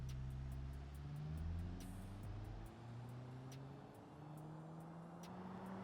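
A Volvo 240 accelerates during a road test, its engine note rising steadily through the gears with continuous close road and wind noise, no voices.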